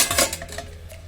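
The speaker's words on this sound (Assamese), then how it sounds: "এতিয়া ইয়াতে মই এখন ঢাকন লগাই দিম" A metal lid set onto a cooking pot of amla murabba with melted sugar, giving a brief clattering clink near the start that fades into a faint, quiet kitchen background.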